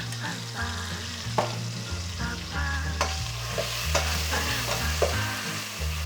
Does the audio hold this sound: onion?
yes